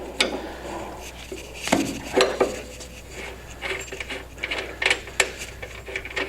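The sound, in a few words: wrenches loosening bolts on a Mustang steering kit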